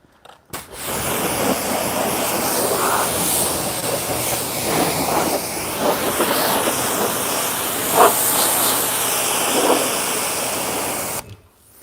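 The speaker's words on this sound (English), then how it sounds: "we need to do a full APC rinse on this beast" Sustained spray hiss from a pressure rinse of all-purpose cleaner solution over a car, steady and close, running nearly unbroken for about ten seconds with small bursts of louder spray.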